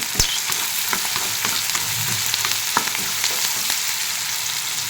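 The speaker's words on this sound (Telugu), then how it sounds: "సాల్ట్ వేసుకొని మిక్స్ చేసుకున్నాం" Salted chopped onions sizzling steadily in a pan for masala dal, with repeated close scrapes and taps of a spoon stirring them, and no talking.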